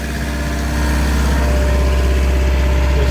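Diesel engine of a Mitsubishi Fuso Canter truck with a blocked DPF running at a steady low rev, a deep continuous rumble with a faint regular throb, close by and unchanging.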